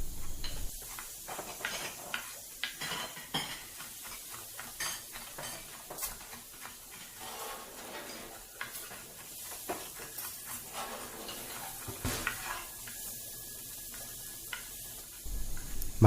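Prawns with mustard seeds cook covered in a pan over a low flame, a soft steady hiss broken by clinks and scrapes of a utensil against metal, close and fairly quiet with no voices.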